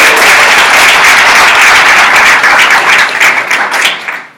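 A middle school audience at a back-to-school night bursts into dense, loud applause that holds steady for a few seconds, then thins and fades out.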